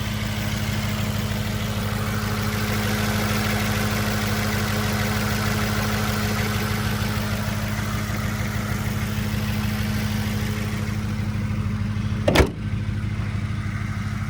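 An Audi S4 B6 with a 4.2 V8 idling steadily with a deep, even rumble close by, interrupted by one brief thump near the end, with no talking.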